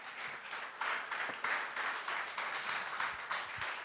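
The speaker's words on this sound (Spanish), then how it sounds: "Denle un fuerte aplauso a nuestro Padre Celestial." A church congregation claps steadily in a continuous, moderately loud wash of applause with rhythmic pulses, with no talk over it.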